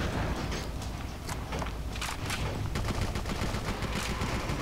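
Sustained gunfire from the video game BloodRayne, dense crackling bursts of shots running continuously throughout at steady loudness, with no talk over it.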